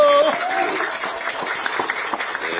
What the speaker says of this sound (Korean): 여러분 박수 한번 보내주시기 바랍니다